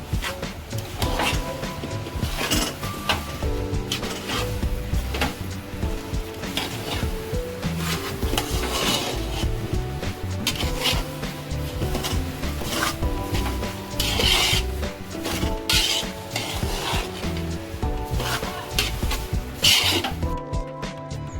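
Two and a quarter kilos of semolina are mixed, making a continuous gritty rasping and scraping with rhythmic strokes under faint background music throughout.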